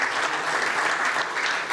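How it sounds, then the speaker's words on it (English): Loud, dense clapping from a conference audience after a panel discussion on green startups and climate tech, a steady burst of applause filling the room. "So a big applause for my wonderful, wonderful panel"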